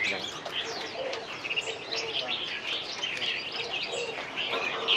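Many caged songbirds and doves at the Van Phuc antique market in Ha Dong, Hanoi, chirp and coo together in a dense, continuous chorus at moderate volume.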